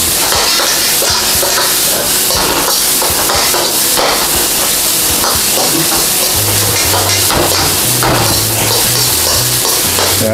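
Spam bacon fried rice sizzles loudly in a pan, with steady frying crackle and repeated scraping and clanking of a spatula stirring against the metal.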